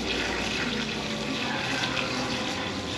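Steady broadband hiss of water spraying from a garden hose while watering a garden, continuous and fairly loud throughout with no talking.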